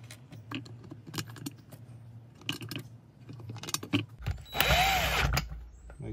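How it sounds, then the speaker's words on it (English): A drill drives screws into a Troy-Bilt pressure washer carburetor, a brief whirring burst near the end after scattered clicks and handling of metal parts, close and fairly quiet. "Usually just snug them with the drill and then come in with the screwdriver."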